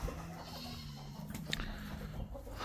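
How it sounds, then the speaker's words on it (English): Sheep on a farm bleat faintly in the middle distance, a wavering low call rising briefly over steady outdoor ambience with a soft hum, no one talking. "We have 8 sheep here."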